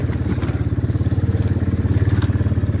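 A farm motorbike with a centrifugal clutch revs steadily under throttle while being ridden, a close, loud, continuous engine drone with a pulsing rhythm.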